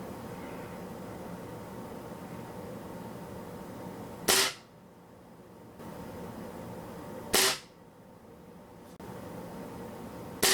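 A Swiss Arms TG1 .177 pellet rifle fires two H&N Chrome Magnum pellets, each a sharp, loud crack followed by a quieter ambient lull, spaced about three seconds apart.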